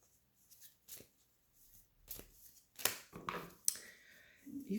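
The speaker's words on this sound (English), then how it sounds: "Even the way I'm shuffling right now, it's like so erratic." Tarot cards being shuffled by hand in quick, irregular bursts of riffling and slapping, close and fairly quiet, with brief pauses between handfuls.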